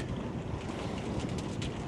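Steady, loud wind roars across the microphone aboard a sailboat under sail at sea on the season's first trip to Loviisa, with a constant broadband rush of air and water and no speech.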